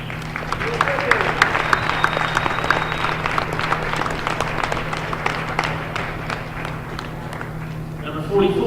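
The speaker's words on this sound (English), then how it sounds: "Give her another round of applause." Steady crowd applause and clapping fills a high school girls' basketball gym, sustained and dense throughout, with an announcer's voice faintly under it.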